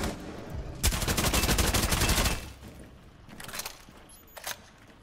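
Rapid automatic gunfire bursts out in Rainbow Six Siege, a loud sustained volley followed by a couple of shorter, fainter bursts and single shots.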